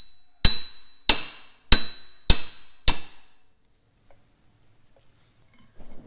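Five sharp, ringing metallic hammer blows strike a wheel stud at an even pace, each decaying quickly, followed by near silence with a few faint shuffles.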